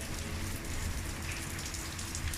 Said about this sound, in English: It's kind of peaceful out here in the rain